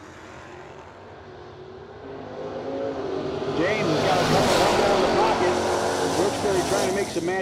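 A 1966 Dodge Dart launches at a drag race, its engine roar swelling from a distant rumble to a loud, revving pass with shifting pitch, heard beneath a track announcer's voice.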